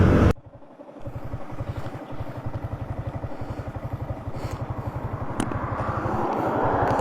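A motorcycle ridden solo on a long homeward trip, its engine putting out a steady low pulsing throb close by, with road and wind noise building gradually over the ride.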